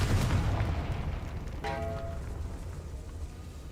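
A magical Confringo blast from the Hogwarts Legacy game: a deep booming burst fades out, followed by a short bright ringing shimmer over a low rumbling background.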